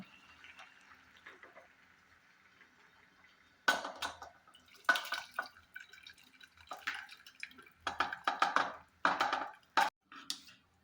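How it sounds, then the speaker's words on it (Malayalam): Chopped vegetables are tipped from a vessel into a pot of cooking dal and rice for bisi bele bath. After a quiet start come sudden close splashes, wet plops and metallic clatters in irregular bursts. "ഈ വെജിറ്റബിൾസിനെ എടുത്തിട്ട് നമ്മൾ അതിലേക്ക് ഒഴിക്കാൻ പോവുകയാണ്"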